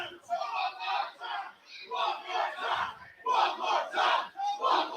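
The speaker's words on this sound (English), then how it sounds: "just listen, the crowd's already turned on the other guy" Wrestling crowd at a Texoma Pro Wrestling show shouting and jeering in loud, surging waves of massed voices that rise and fall over several seconds.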